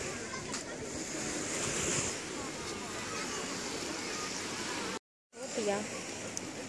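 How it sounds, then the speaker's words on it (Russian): Baltic Sea surf on a windy shore near Kaliningrad, a steady broad wash of waves with wind buffeting the microphone, continuous and fairly loud, briefly cut out near the end before resuming. "Это Балтийское море."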